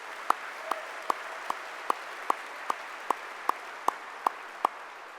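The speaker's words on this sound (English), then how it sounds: "want to give them a round of applause" An audience at the Illinois Athletics Hall of Fame gala applauds, a steady wash of distant clapping crossed by one nearby pair of hands beating a crisp, evenly spaced rhythm.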